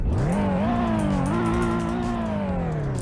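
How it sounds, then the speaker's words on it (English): An Infiniti G35 engine revs up from idle, climbs and holds a steady drone, then slowly falls back. It is loud and close, with no voices over it. "And here's a little rev test."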